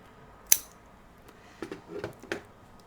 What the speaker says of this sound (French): Et on vient couper l'excédent